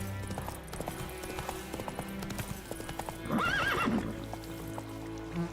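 Horse clip-clopping hooves and a clear neigh partway through, from The Witcher 3, with steady hoof beats over ambient game sound and the whinny rising loudly near the middle.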